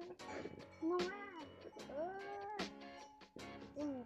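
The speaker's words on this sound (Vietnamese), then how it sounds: "Con dê đó." Goats bleat outdoors several times, with wavering, drawn-out cries mixed with other rustling noise. The calls are moderately close.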